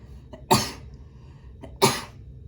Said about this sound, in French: Ouais, j'avais envie d'éternuer.